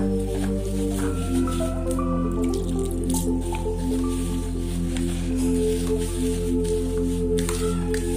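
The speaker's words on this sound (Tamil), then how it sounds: "தண்ணியை தெளித்து நம்ம செஞ்சுக்கலாம்." Water drips and trickles as it is sprinkled onto red rice puttu flour in a kitchen, soft wet splashes over a steady low hum, with no talking.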